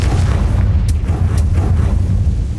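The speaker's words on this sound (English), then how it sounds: "Bombarda. Confringo." The Confringo explosive spell goes off in Hogwarts Legacy on PS5 as a loud, deep, rumbling boom with a sustained heavy blast that fills the whole moment.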